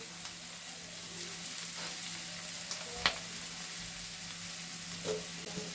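Fish roe and potatoes fry in a pan after a splash of water, giving a steady, quiet sizzle throughout with a few soft clicks of stirring and no talking.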